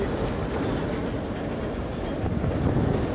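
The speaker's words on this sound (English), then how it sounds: "That's the first time seeing a train going into emergency" A Canadian Pacific freight train rumbles heavily and steadily nearby in Windsor, Ontario, its low roar and grinding clatter continuing without pause as it slows under emergency braking.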